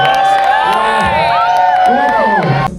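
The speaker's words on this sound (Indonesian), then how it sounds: "terima kasih tepuk tangan buat Niko." Crowd cheering and whooping at a film press conference, loud overlapping shouts and voices with rising and falling pitch, dense and close throughout.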